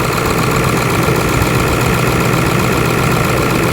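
A 2001 Ford Excursion's 7.3L Powerstroke diesel sits at high idle while warming up, giving a loud, steady, close-up clatter and rumble that never lets up.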